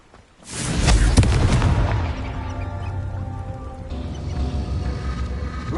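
The Confringo fire spell goes off in the Hogwarts Legacy game as a single heavy boom with a burst of crackle, then a long rumbling decay that fades under faint ambient tones.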